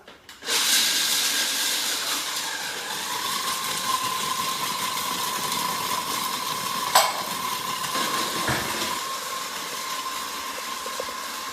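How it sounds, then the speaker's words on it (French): A food processor coarsely chops roasted unsalted peanuts in a steady, loud whirring drone that runs for about eleven seconds with a brief clatter near the end, no talking over it. "Donc on mixe grossièrement les cacahuètes."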